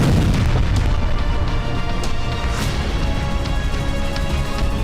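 Loud, continuous rumbling booms and blasts from explosions during a military strike on a school, a dense, sustained roar with scattered sharper cracks and no speech.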